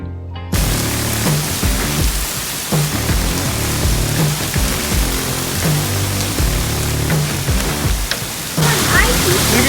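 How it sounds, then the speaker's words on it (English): A summer hailstorm pours ice onto a roof in a dense, roaring clatter of hard hits that runs nearly the whole time, loud and close, while a person's voice breaks through now and then. "Back in the summer, there was a hailstorm."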